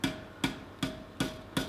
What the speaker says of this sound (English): I'm doing this under the power hammer because it's an awful lot quicker than walloping it by hand.